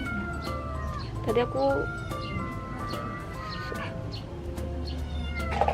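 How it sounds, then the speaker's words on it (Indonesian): A kitten meows repeatedly, high and fairly close, over steady background hum while a person speaks in between. "dari tadi ada suara anak kucing di sini"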